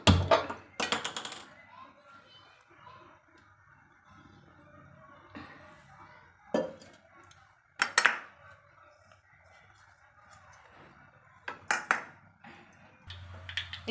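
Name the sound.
mustard seeds added to hot pan for tempering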